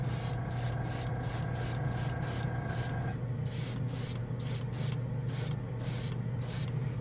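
Green Stuff World metal paint hisses from a spray nozzle in a fast series of short, evenly spaced bursts over a constant low hum from a nearby machine.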